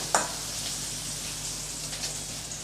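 Small shallots just added to hot oil in a pan for a drumstick-leaf stir-fry, a sharp initial crackle followed by a steady close sizzle, no voices.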